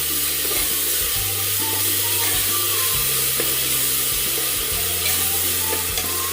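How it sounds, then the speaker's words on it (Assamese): Tomato paste goes into a frying pan for a goat meat curry, bursting into a loud sustained sizzle with stirring scrapes and a low steady hum beneath. "ইয়াত বিলাহীখিনি পেষ্ট কৰি থোৱা সেইখিনি ঢালি দিম।"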